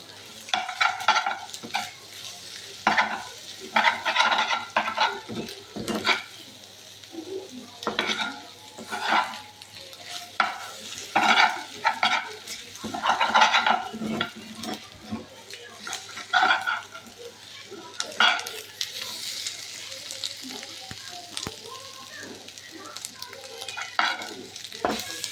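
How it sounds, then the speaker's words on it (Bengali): Eggs frying in a pan are stirred with repeated scraping and clinking strokes over a steady sizzle, close and fairly loud, in irregular bursts throughout, with no one talking. "কিছুক্ষণ একটু নাড়তে হবে যাতে লেগে না যায়।"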